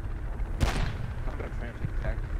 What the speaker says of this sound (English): Maybe one mortar hit that marker,